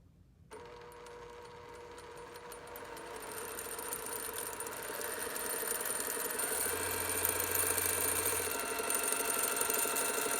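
A Brother PQ1500SL sewing machine winds a bobbin with a steady, rapid mechanical whir and rattle that climbs slightly in speed and loudness, close and without talk.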